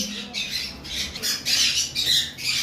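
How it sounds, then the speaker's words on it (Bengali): A breeding pair of pet birds in a cage gives out repeated harsh squawks in close, overlapping bursts that run almost without a break, fairly loud and near. "এটা মাস্টার পেয়ার বাচ্চা করা পাখি"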